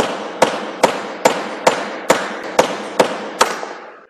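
A hammer strikes metal along chain-drilled holes to knock out the waste slug, eight sharp, ringing blows at an even, brisk rhythm, close and loud, the last ones trailing off.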